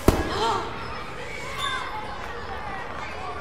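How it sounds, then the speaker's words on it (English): Firecrackers in the Five Nights at Freddy's: Into the Pit game: one sharp, close bang at the very start, then a softer pop about a second and a half later, with speech alongside. "Oh, those firecrackers?"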